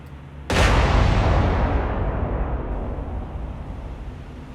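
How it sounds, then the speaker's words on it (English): Armor-piercing naval gun salvo in the War on the Sea video game: a sudden loud broadband blast that rolls into a long, rumbling decay of explosions and booming reverberation, no voices. "Fire an armor-piercing salvo at that Sendai"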